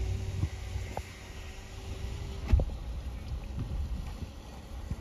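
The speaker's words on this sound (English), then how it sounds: "Sorry about the wind, guys." Gusty wind buffeting a microphone outdoors at an RV park in Rockport, Texas, a steady low rumble with occasional louder thumps and bursts throughout.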